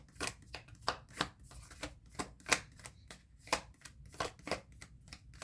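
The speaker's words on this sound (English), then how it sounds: "These cards are so hard to shuffle." Tarot cards shuffled by hand in a quiet room, giving a run of about a dozen crisp riffling bursts at an uneven rhythm, close and clear, with no talking.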